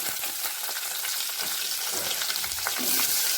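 Onions are added to a pan of egg gravy for egg chilli and sizzle steadily, a close, continuous frying hiss with faint scraping of stirring throughout, no voices.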